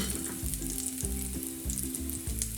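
Garlic fries in a pan for a pepper potato masala curry, a dense, close sizzle with light stirring, steady and unbroken, no voices.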